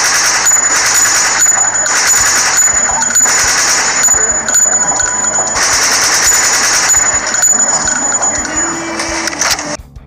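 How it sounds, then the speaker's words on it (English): Rapid bursts of machine-gun fire for a shooting film edit, layered with metallic tinkling of bullet shell casings falling after each volley; loud and close, with brief pauses between bursts. "I add 2 to 3 or more bullet falling sound effects every time the gun stops rapid firing"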